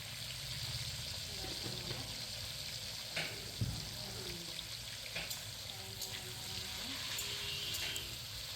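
Hilsa fish pieces coated with turmeric and salt frying in oil, a steady soft sizzle running throughout with occasional light clatter.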